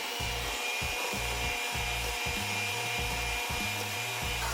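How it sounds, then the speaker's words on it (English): Sugar and eggs being beaten together in a bowl make a quick, regular scraping rhythm, a steady stroke roughly every half second, close and continuous. "the sugar and eggs, you just beat it until it's light in color"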